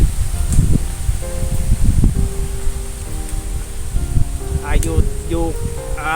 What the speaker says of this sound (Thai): โอ้ลมพัดดีมากเลยนะครับ ตรงนี้